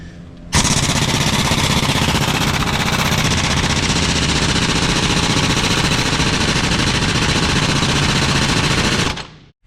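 A 1-inch impact gun, stepped down to 3/4-inch with a long extension, hammers nonstop on a seized bolt during a cylinder removal. The rattling is loud and close, running unbroken for about nine seconds before cutting off.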